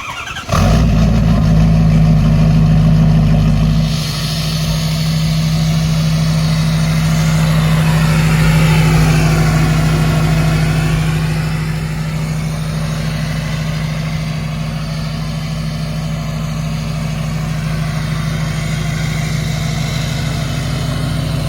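Pickup truck engine cold-starting with a loud crank and catch, then settling into a steady, deep rumbling idle close by, with a slight rise in revs early before easing down; no talking.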